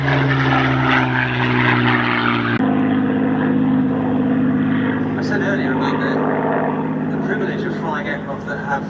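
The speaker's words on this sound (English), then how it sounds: "very aircraft you're watching display now and that you can go flying in" A Spitfire flies a display at the Sywell Airshow, its propeller engine droning loudly and steadily and shifting in pitch as it passes, with a voice over it.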